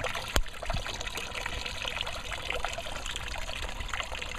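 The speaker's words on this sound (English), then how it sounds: "so we're crushing the grapes here and all the juice is coming through." Grape juice trickles and dribbles steadily out of crushed grapes during home winemaking, a continuous close liquid patter with one brief knock near the start and no talking.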